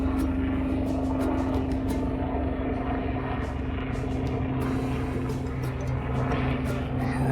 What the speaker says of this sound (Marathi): हेलिकॉप्टर बघ सर.